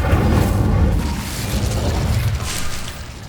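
A fire spell cast in Hogwarts Legacy gives a loud, low booming whoosh that swells at once and then rumbles on steadily, fading slightly toward the end with no voices.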